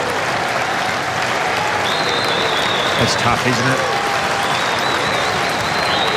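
An Australian rules football crowd at Subiaco applauds an injured player leaving the ground during the WAFL grand final, with steady, sustained applause filling the stadium under a commentator's talk.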